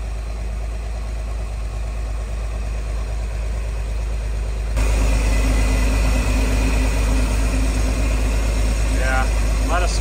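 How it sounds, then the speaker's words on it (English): A 1963 Corvair's old engine idles steadily with a low, constant rumble that grows louder partway through, and a voice speaks briefly near the end. "It's idling nicely."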